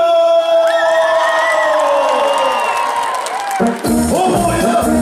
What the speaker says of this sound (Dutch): Mag ik een applaus, als het kan, voor Frank de Toetelman!